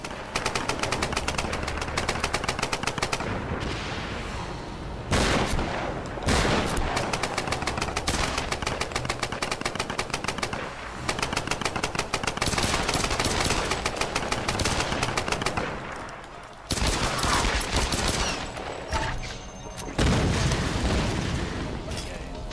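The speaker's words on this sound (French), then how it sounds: "j'entends des gens tirer de partout mais je ne vois personne" Players shoot in a Tomb Raider multiplayer match: loud, sustained machine-gun bursts and rapid gunshots rattle almost continuously, broken by brief pauses and punctuated by booming explosions, with no talking over them.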